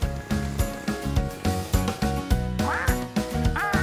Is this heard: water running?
no